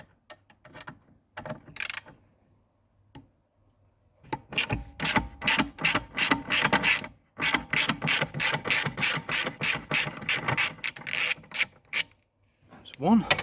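A ratchet backing out 13mm steering column bolts on a Mini Cooper R53, with rapid rhythmic clicking bursts in quick strokes, close and loud, separated by brief pauses.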